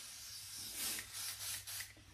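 Spray bottle misting down a wig, a few quick hissing bursts close to the microphone, soft and short with no talk.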